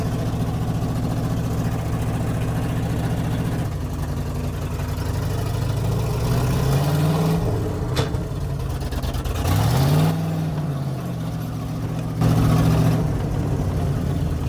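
A truck built from scrap parts off an abandoned vehicle runs and drives, its low engine idling steadily and then revving up in a few short rises and falls, fairly close and loud, with no talk over it.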